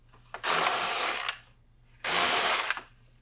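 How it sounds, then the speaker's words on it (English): A knitting machine carriage slides across a bed of needles, two loud rushing, rattling passes about a second long each, close up with a pause between them. "Slide the carriage across the needles to get them into working position."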